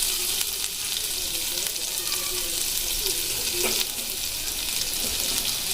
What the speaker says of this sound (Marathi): तर मी इथे छानपैकी तेल गरम झालंय आणि थोडंसं लसूण बारीक कट करून टाकलेलं आहे आणि थोडीशी अद्रक सुद्धा असे बारीक कट करून टाकलेले आहे